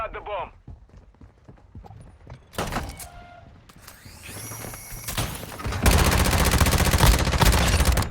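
Rapid gunfire from the mobile shooter game Warzone Mobile, a loud dense burst of shots in the latter half, with scattered game effects and brief talk before it.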